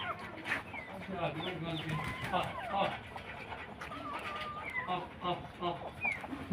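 Aseel hens cluck and chatter close by in a yard, irregular short calls running under someone talking steadily over them.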